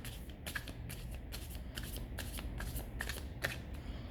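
A deck of cards being shuffled, giving a quick run of crisp riffling bursts with a regular rhythm, close and clear, with no talking.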